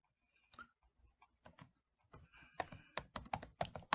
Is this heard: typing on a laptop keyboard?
yes